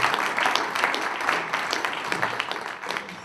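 An audience at a talk on team management claps after a small surprise, an uneven burst of clapping with distinct individual claps, loudest at the start and gradually tapering off.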